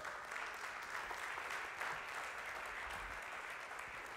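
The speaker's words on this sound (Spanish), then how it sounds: "Le da ese aplauso fuerte, perfecta." A church congregation claps during a sermon, a fairly faint but continuous round of applause with no voices over it.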